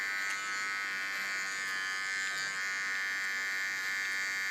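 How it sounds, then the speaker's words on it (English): A hair clipper trimming a woman's hair while held at an angle gives off a steady, close electric buzz that stays even in pitch and loudness throughout. "This I do by holding the clipper a little bit in angle."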